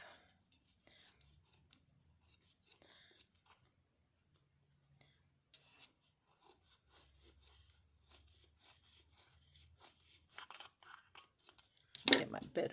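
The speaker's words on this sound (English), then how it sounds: "you just trim that off" Soft, close snips and scraping of scissors cutting paper, sparse at first and then more frequent, with quiet rustling and a brief louder rasp near the end.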